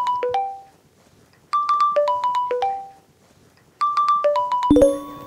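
A mobile phone ringtone plays for an incoming call, a bright melodic chime pattern repeating three times in short bursts, close and clear, before another tone cuts in at the very end.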